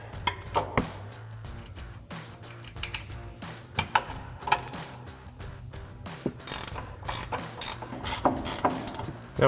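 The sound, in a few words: 15 mm ratcheting wrench removing strut mounting nuts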